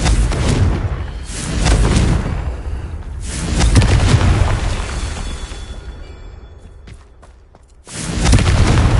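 Confringo explosion spells in Hogwarts Legacy burst in heavy, rumbling booms, several loud blasts rising and fading in waves with a brief lull before a final surge.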